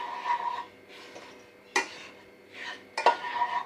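Semolina cooking in a pan over a low gas flame for pedas is stirred in short scraping strokes, several separate bursts of utensil-on-metal rubbing with quiet gaps between them.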